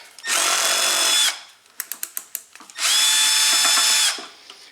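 An electric drill or impact driver works a heat shield bolt on an Ariens snow blower, giving two sustained high whirring bursts with a series of sharp ratcheting clicks between them, close and alone.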